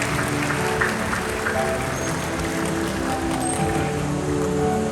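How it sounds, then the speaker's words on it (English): A crowd claps steadily at a Singapore bird-of-prey show featuring raptors and scavengers, a dense, even wash of applause lasting throughout without breaks. "applause"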